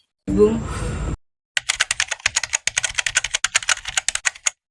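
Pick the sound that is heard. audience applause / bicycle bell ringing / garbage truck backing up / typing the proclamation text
typing the proclamation text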